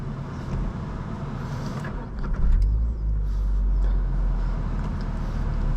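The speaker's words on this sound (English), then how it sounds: "start the car" A 2023 Subaru BRZ Premium engine starts at night, a brief rising crank and catch giving way to a loud, steady low idle rumble that continues to the end.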